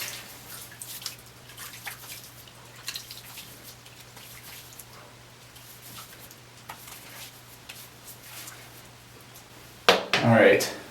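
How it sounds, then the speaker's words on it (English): Bloom water splashed from a wet hand onto the face before shaving with a Gillette 7 O'Clock Super Stainless blade, a short loud wet burst near the end after quiet drips and soft handling noises. "I'm going to go ahead and take this bloom water, add it to my face."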